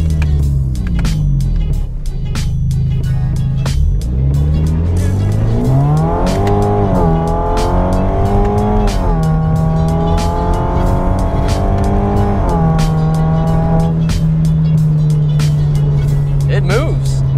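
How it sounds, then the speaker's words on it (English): An automatic Hyundai Genesis Coupe on new wheels launches hard from a dig, its engine revving up through rising gear pulls with a brief tire chirp, loud and close from inside the cabin, with people talking over it. "So the owner has kindly let me do a dig in this car."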